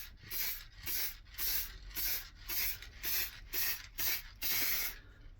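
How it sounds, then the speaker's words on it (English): Finish is sprayed from a can onto a routed pine wall-art piece inlaid with resin, in about eight short hissing bursts of even rhythm with brief gaps between, close and fairly quiet. "And we spray the full piece"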